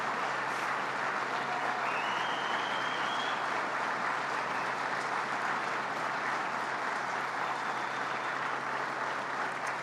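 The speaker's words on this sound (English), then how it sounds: "a round of applause to our governor" Sustained applause from a crowd at an announcement event honoring the governor over an Alcoa jobs deal, steady dense clapping filling the whole stretch at even loudness with a faint whistle near the start.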